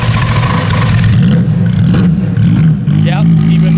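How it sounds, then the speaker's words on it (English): A Ferrari F50 engine revs hard under an abandoned ski jump from the Cortina Olympics, a loud, close, sustained roar that rises and falls with the throttle, and a voice speaks over it. "it would almost be rude not to have a little rev"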